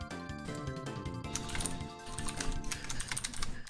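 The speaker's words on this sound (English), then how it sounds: "here's the sound of furious typing" Fast, furious typing on a computer keyboard, a dense stream of close, clicky keystrokes over a background of steady music.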